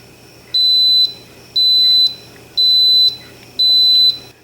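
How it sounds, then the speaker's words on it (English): An Instant Pot signals the end of an 8-hour yogurt fermentation with four evenly spaced, loud high beeps, each lasting about half a second, over a quiet background. "When the timer hits 8 hours, it will beep and then it will turn off"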